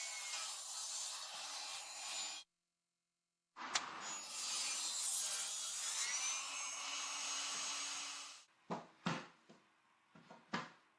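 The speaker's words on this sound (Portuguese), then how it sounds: "com uma lâmina velha colocada na minha serra, usei uma peça de teste para ajudar a ajustar meus cortes" A saw fitted with an old blade cuts wooden floorboards for a garden room floor, with two long rasping, whining cuts split by a brief silence, then several short sharp bursts near the end.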